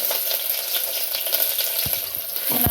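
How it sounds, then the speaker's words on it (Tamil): Close, continuous sizzle of small chopped onions sautéing in oil in a pan, with a few soft stirring taps near the end. "நல்லா கோல்டன் ப்ரௌன் அது வத வத வதண்டிக்குவோம் வதங்கட்டும் நல்லாவே வதங்குது"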